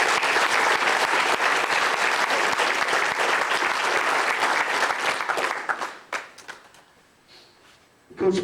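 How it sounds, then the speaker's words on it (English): A banquet audience claps loudly for a football coach, dense applause holding steady before thinning to a few scattered claps and quiet near the end. "let's give Coach Sather a big round of applause"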